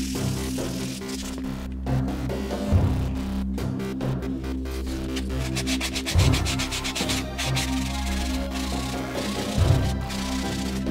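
A plastic mask being sanded by hand with 120-grit sandpaper, giving a steady, close scratchy rubbing that runs throughout with recurring louder strokes and a low background hum.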